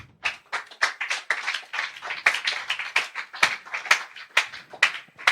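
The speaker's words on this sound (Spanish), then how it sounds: "Dale aplauso al Rey" A church congregation claps in loose rhythmic bursts, sharp distinct hand claps repeating roughly every half second over several seconds, fairly close and alone without talk.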